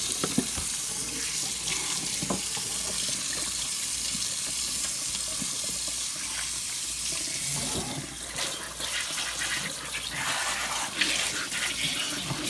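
Tap water runs steadily into a kitchen sink while a whole turkey is rinsed, a loud continuous splashing rush with shifting spatter as the bird is moved under the stream.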